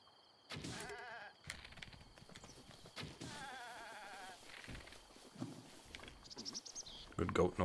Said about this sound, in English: Good goat noises.